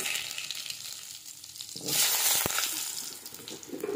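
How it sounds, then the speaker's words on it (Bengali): Potatoes and radhuni tempering spices hit hot oil in a wok for cooking pipli greens, giving a steady crackling sizzle that swells into a loud, bright hiss partway through, with no talking. "আমি পিপলি শাকটা রান্না করার জন্য রাঁধুনি ফোড়ন দেবো আর আলু দিয়ে দেবো"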